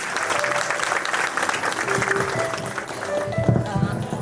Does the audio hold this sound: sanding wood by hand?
no